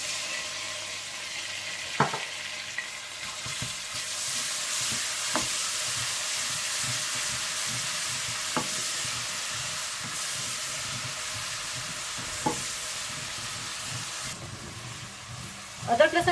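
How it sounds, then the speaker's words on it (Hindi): Onions, ginger and garlic frying in a pan for kale chane give a steady hiss and sizzle, with occasional scraping stir knocks. "और जैसे ही प्याज हल्के गोल्डन ब्राउन हो जाए तो आप इसमें अदरक लहसुन डालकर भून लें।"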